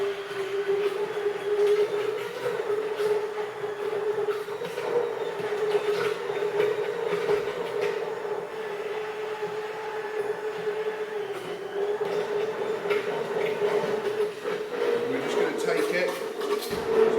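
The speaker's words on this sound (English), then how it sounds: "So we're going to add this to a jug, and we are going to blitz it up." A blender in a jug purees fresh tomato sauce, giving a loud, steady motor drone that holds evenly for about seventeen seconds.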